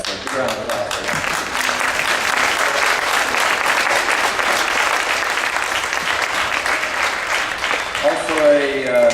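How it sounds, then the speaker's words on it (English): Sustained, dense applause from a school audience at a winter beginning band concert, loud and steady for several seconds before starting to taper off, with a voice rising at the end. "So big round of applause for them."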